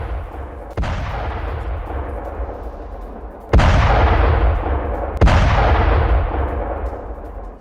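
A Russian D-30 howitzer fires on Ukrainian positions near Kherson: three heavy, booming shots at irregular intervals, loud and close, each followed by a long rolling echo that fades slowly.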